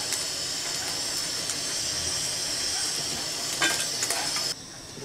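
Fish frying in hot oil in a home kitchen pan, a steady close crackling sizzle with hiss that holds evenly, then drops to a quieter sizzle near the end.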